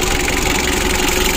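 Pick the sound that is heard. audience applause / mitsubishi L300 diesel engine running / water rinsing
mitsubishi L300 diesel engine running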